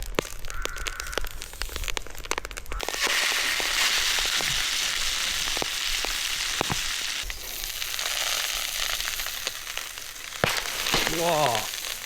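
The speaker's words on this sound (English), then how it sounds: "All them little balls are exploding on me." Hissing, crackling popping from a woodland campfire under a cast iron pan, with sharp snaps and bursts over a steady sizzle, close by and continuous.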